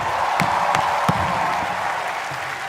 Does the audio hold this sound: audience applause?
yes